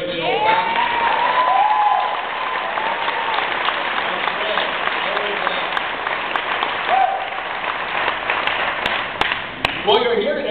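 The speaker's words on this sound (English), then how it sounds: "Why don't we give Jerry a big old clap" An audience claps and cheers at a live event, with dense, sustained applause spread through the room and occasional louder whoops rising above it.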